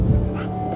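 Short, close whimpering yips from Molly the dog at an off-grid cabin in the woods, a brief burst of high whining under low rumbling background noise.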